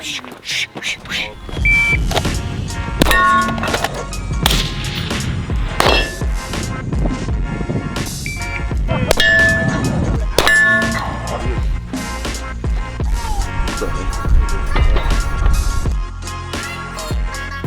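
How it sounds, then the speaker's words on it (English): Bullets ring steel targets at an outdoor shooting range, a rapid run of sharp metallic clangs and pings over loud gunfire, some fired in fast strings with short pauses between. "We're just gonna ding some targets."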